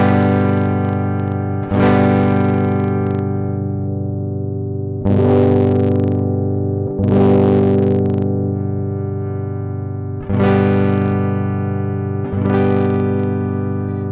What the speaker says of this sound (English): there's some major crackling, distortion going off.